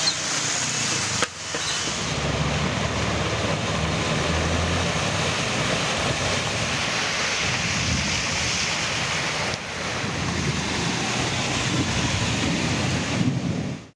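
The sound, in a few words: heavy rain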